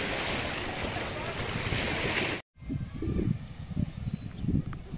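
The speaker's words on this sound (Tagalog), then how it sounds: "maalon na yung dagat" Rough sea around a small fishing boat off Ternate, recorded on a GoPro Hero 10: loud wind buffeting and rushing surf, then after a brief dropout, rolling waves slapping and washing against the hull in uneven surges.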